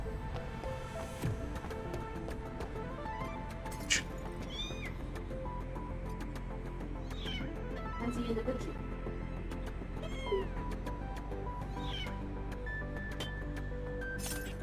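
Repeated cat meows in the video game Anno Mutationem rise out of a busy ambient game soundscape with faint clinks, several distinct cries spread across the stretch while a voice talks.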